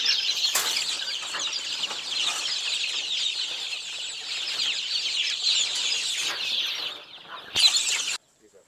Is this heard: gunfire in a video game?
no